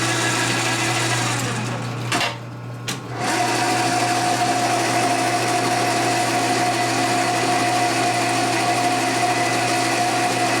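A machine cuts all the way around a Harley-Davidson engine part for a 1993 FXR Twin Cam conversion, giving a steady, loud high-pitched whine that dips briefly near the start before resuming without a break.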